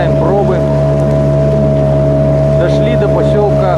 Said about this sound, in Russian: Теперь мы вот второй день идем на моторе